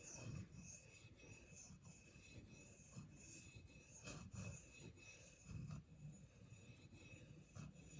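A knife is stroked on a Spyderco medium bench stone to knock the burr off, a faint, rhythmic scraping rasp repeating at a steady pace.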